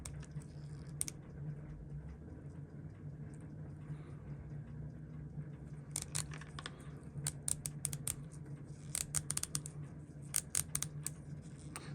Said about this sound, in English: Now I'm taking the case apart. Nice clean clicks.